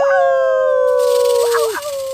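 A human voice imitates a wolf's howl for the big bad wolf in a retelling of the three little pigs, a long sustained wavering tone that rises and bends near the end, loud and close with no talk over it.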